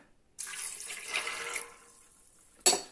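Cooled boiled water is poured into a smoothie, a soft, close splashing trickle lasting about a second before tapering off, followed by a short clink.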